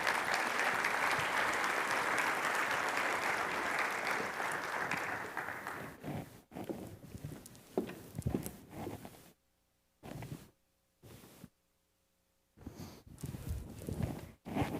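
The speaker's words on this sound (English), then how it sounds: "Let's give them a warm round of applause." Conference audience at a general session applauds loudly and steadily for about six seconds, then the clapping thins into scattered claps, rustling and footsteps with quiet gaps.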